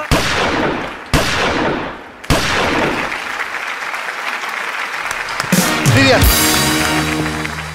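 On a Bangladeshi TV comedy show, two or three sharp gunfire bangs ring out in sequence with decaying tails, followed by a burst of applause and crowd noise.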